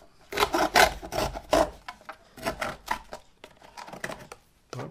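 A blade cuts through a Tetra Pak carton's stiff folded side in short, uneven rasping strokes. The scratchy scraping sounds come close up in bursts with small pauses, and nobody talks.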